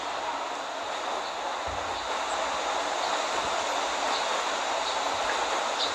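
A subway train runs in the driving game Subway Simulator 3D, a steady loud rumble and hiss of motion with faint rail clicks throughout, with no talking.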